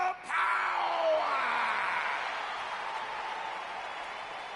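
Crowd in WWE 2K20 cheering and clapping, a broad roar of yells and applause that swells at the start, with a sliding tone over it, then settles into a steady, slightly fading wash.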